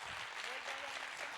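A workshop audience at a conference applauds briefly, a faint, distant wash of clapping with voices mixed in beneath it.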